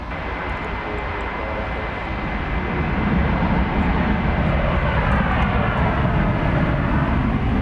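A parked airliner at DFW Airport fills the air with a steady, loud jet engine hum and broadband roar that swells slightly partway through, with no talking.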